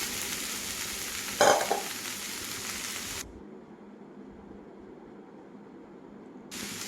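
A spoon stirs a Chinese potato (koorka) stir-fry in a pan, a soft continuous sizzle with a brief scraping burst, then the frying drops to a quieter hiss.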